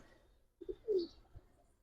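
An army pigeon gives a short, soft coo of a few low notes close by, in a quiet room with faint background noise.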